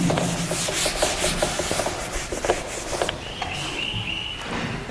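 Chalk writing is rubbed off a classroom board in a steady run of scratchy, rhythmic back-and-forth strokes, close and moderately loud, with no talk over it.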